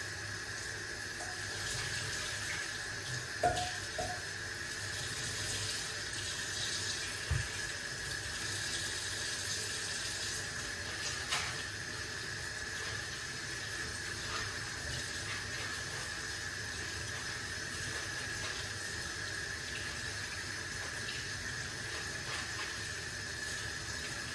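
A faucet runs steadily in a quiet, continuous hiss, with a few faint clinks and splashes of moringa leaves being rinsed under it.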